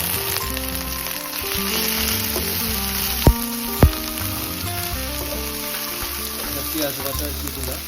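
Onion and chili paste, with a little garlic paste, fries steadily in a pan for a katla fish curry, giving a close, even sizzle broken by two sharp taps, with background music underneath.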